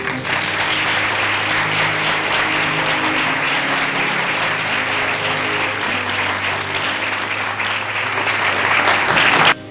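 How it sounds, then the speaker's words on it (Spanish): A crowd applauds at a public talk on fracking in Villarcayo, loud and sustained, welcoming the speaker to the stage. Faint voices and some hum sit beneath the clapping until it cuts off at the end. "Con todos vosotros, Pedro Prieto, un aplauso."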